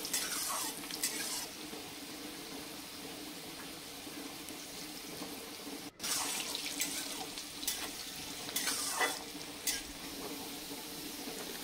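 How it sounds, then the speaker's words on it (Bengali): Potatoes with a little salt and bay leaf frying in a pan for a cabbage curry, a continuous soft sizzle and hiss with occasional stirring scrapes, no voices. "সামান্য লবণ দিয়ে আমি আলুগুলোকে ভালো করে ভেজে নেব।"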